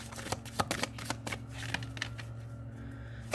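Tarot cards handled and drawn by hand, a run of crisp close flicks and slaps of card stock, several sharp snaps in the first two seconds easing into softer rustling, with a steady low hum underneath and no talking.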